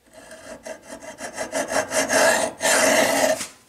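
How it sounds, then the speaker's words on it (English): Hacksaw cutting across a round steel shaft, a run of short rasping strokes that speeds into longer, louder back-and-forth passes, close up with no talking. "I want to cut across this thing with my hacksaw to kind of start it."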